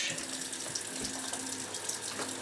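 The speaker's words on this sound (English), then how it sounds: "wash the celery" Water running steadily from a kitchen tap to wash celery, a continuous close splashing rush with no voices.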